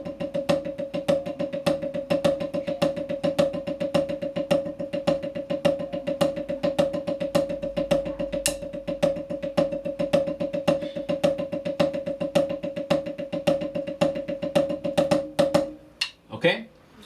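A snare drum plays a long, even run of paradiddle strokes with accents on the upbeats, close and bright, for about sixteen seconds before it stops and a voice starts briefly.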